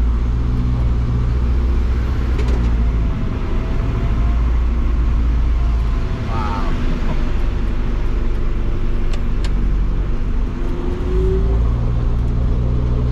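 The engine of a Mercedes-Benz Unimog off-roader drones loud and steady as the vehicle climbs a flight of stairs, a constant low rumble with occasional faint knocks, continuous throughout without talk.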